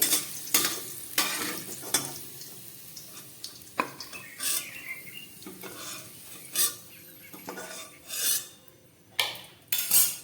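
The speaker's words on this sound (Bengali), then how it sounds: "উচ্ছেগুলো ভাজা হয়ে যাচ্ছে, আমি তুলে ফেলছি।" Bitter gourd sizzles in hot oil while a utensil repeatedly scrapes and clanks against the pan in an uneven rhythm.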